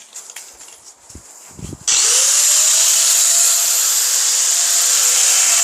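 A power tool cuts bathroom tile for a bathtub installation, starting with a few handling knocks and then running as a loud, continuous high whine that holds steady to the end.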